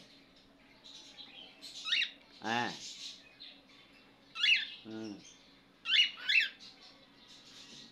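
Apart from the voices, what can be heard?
pet bird singing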